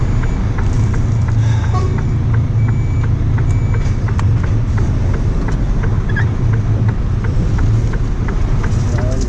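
A lorry manoeuvres near a busy main road, its reversing alarm beeping in a steady, evenly spaced series over a loud continuous engine rumble and traffic noise.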